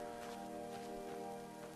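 A waterfall in the Skyrim video game, a steady broadband rushing and splashing of water, constant and moderately faint, with a faint tonal hum layered underneath and no talking.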